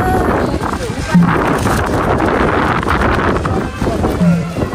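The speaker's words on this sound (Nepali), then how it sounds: "यस्तै हावा चल्दियो त" Strong wind buffets the microphone outdoors in Sunkoshi, Okhaldhunga, with a constant low roar and gusty rumble, while someone speaks underneath it.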